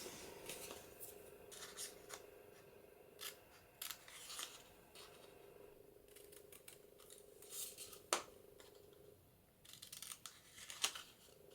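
Scissors snip the corners off paper cards for Christmas journaling in a quiet room. The crisp, close cuts come in irregular clusters, with faint rustling and handling between them.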